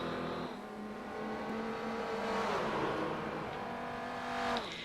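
A Dutch touring car engine revving hard on an alpine road in the Forza Horizon 4 racing game, a continuous loud whining drone that rises and shifts pitch as it accelerates.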